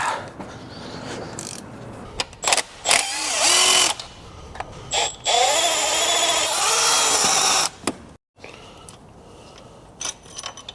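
A power tool whirs in repeated bursts of varying length, loosening the cylinder head bolts on a Mercedes W204 C63 with an M156 engine. It sounds close and loud, with quieter workshop clatter between the runs.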